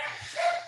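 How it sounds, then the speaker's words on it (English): Dogs bark in the background at home, a short, fairly faint muffled bark or two heard at a distance. "there goes my dogs"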